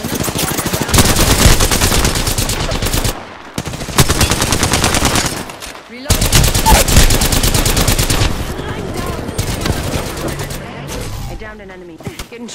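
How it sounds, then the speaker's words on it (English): Rapid automatic gunfire in the Apex Legends video game, loud, dense bursts of fire separated by brief pauses, close and overwhelming, with faint in-game sounds in the gaps. "Shots fired at me."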